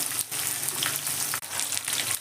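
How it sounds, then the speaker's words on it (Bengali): Bitter gourd (uchhe) pieces, washed and drained, fry in hot oil for a sesame bitter-gourd chorchori, a close, loud bubbling sizzle that runs almost continuously with one brief break. "তেলটা আমার গরম হয়ে গেছে এর মধ্যে আমি দিয়ে দিচ্ছি উচ্ছে"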